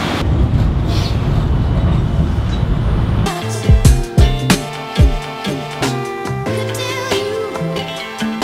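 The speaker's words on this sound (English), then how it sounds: "They're about to roll up in the tram" A tram in Nagasaki rolls up, with steady low rumbling noise for about three seconds, then louder clattering wheel and track sounds with metallic clanks and squeals as it arrives close by.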